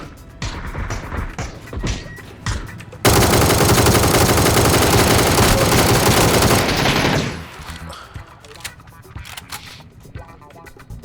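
Sustained automatic gunfire pours onto a tank in the battle royale game PUBG, a dense loud burst lasting several seconds between scattered shots, with someone talking over the action before and after.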